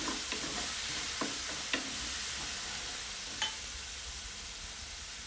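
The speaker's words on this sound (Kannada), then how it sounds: "ಸ್ವಲ್ಪ ಜೀರಿಗೆ ಆ್ಯಂಡ್ ಆನಿಯನ್ ಹಾಕೊಂಡು ನೀಟಾಗಿ ಫ್ರೈ ಮಾಡ್ಕೋಬೇಕು" Cumin and onion fry in oil in a pan, giving a steady soft sizzle with a few sharp clinks and scrapes of stirring scattered throughout; no voices.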